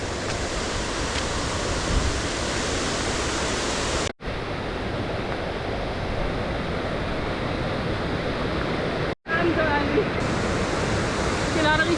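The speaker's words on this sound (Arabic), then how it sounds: "هذا الماي كله من الامطار ومن ينبوع الثلج، شلال ونهر كله ينزل على البحيره." A waterfall and river swollen with rain and snowmelt pour down toward a lake during a storm, making a loud, steady, close rushing roar that fills the scene, broken only by two brief cuts to silence.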